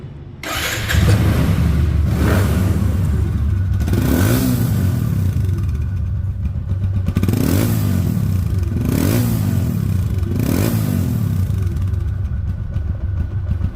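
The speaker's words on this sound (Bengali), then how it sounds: "বাইকের সাউন্ড কোয়ালিটি শুনুন" A 2023 RTR 160cc motorcycle engine runs steadily at close range, with a low throbbing idle and several short revs rising and falling.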